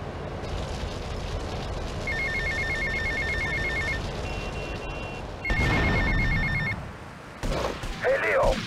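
Phone ringing in the video game GTA Vice City, two short bursts of trilling electronic ring over steady background game noise, followed by a voice talking at the end.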